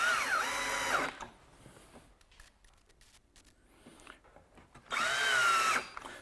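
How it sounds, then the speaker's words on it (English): A power drill drives a pocket hole screw into cabinet wood, with two loud whirring bursts at the start and end separated by quieter handling noise. "And running in my screw this way."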